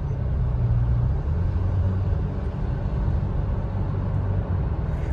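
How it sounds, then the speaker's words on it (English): A Toyota Tacoma with an automatic transmission hums along in slow stop-and-go traffic, its low engine and road drone steady and continuous from inside the cab, with no distinct shift changes standing out. "Like right now, it's gear hunting a lot."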